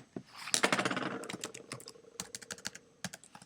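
Rapid clicking of keys on a computer keyboard, a quick run of taps then short bursts with brief pauses, close and clear with no talking.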